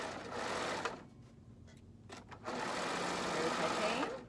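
Serger sewing machine running as it chains off thread during a T-shirt class, a steady fast motor whir with a brief pause in the middle before resuming loud and close.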